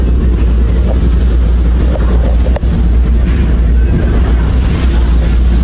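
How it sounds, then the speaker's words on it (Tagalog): Constant loud roar of wind and churning water around a ferry on rough sea waves, steady and unbroken throughout. "Kaya malakas na yung alon."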